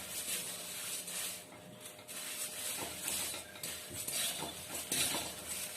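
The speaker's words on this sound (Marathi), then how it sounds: "असं परतून घ्यायचं. सगळं मिक्स झालं पाहिजे असं साईडने." Puffed rice chivda being tossed and stirred in a pan, a continuous rustling scrape with light metallic clinks of a spoon against the pan, fairly quiet and close.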